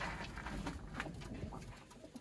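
Sialkoti pigeons coo softly in a breeder's loft, a faint, murmuring stream of low calls with no voices over it.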